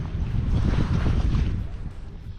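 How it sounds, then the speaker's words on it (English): Strong wind buffets the microphone on a Norwegian beach during sea trout fishing, producing a loud, steady, low roar that holds for a couple of seconds before easing slightly. "Only bad thing now is I got wind coming in from my right hand side."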